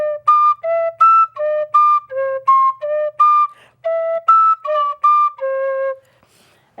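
A simple whistle plays a run of about a dozen clear, separate notes, some jumping to the higher octave when blown harder, loud and close, ending in silence.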